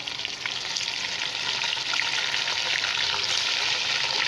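About 1 kg of bone-in beef sizzles steadily as it hits onions fried to golden colour for a spicy beef biryani, a loud, continuous crackling hiss with faint stirring scrapes and no talking.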